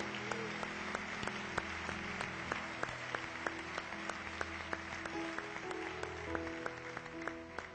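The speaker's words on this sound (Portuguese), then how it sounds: "aplauda ao Senhor" A church congregation claps steadily for nearly eight seconds, dense applause with sharp individual claps standing out, and a few voices call out beneath it.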